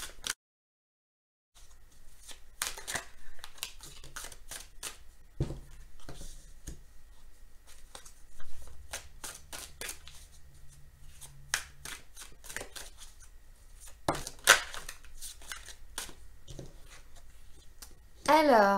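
Tarot de Marseille cards are shuffled and laid out, giving quiet crisp snaps and papery riffles in irregular bursts, close by against a near-silent background.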